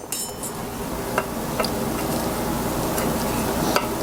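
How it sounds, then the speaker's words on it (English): Knife working at the crisp cheese crust of a baked meat casserole, scraping and crunching with a few sharp clinks against the dish over a steady hiss, close by. "I think I'm going to take my knife and try to cut through that cheese"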